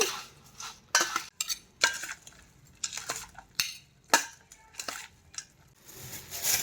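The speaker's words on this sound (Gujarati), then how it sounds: "હવે આને મિક્સ કરી દેવાનું છે." Bhel puffed-rice mix being stirred with tomato ketchup in a bowl, a run of irregular close scraping, rustling and light clinking strokes with brief pauses between them.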